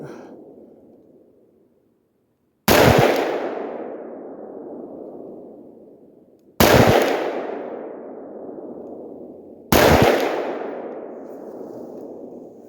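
Three loud single shots from a Sig MCX rifle with a pistol-length gas system, each a sharp crack trailing into a long echoing decay outdoors, spaced several seconds apart.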